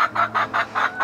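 A hen in a backyard coop clucks close and clear, about five rhythmic pulses in quick succession, with no voices over it.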